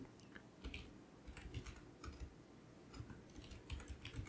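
Rapid, irregular clicking of a computer keyboard as text is typed, close and fairly quiet, with bursts of keystrokes separated by short pauses and no voices.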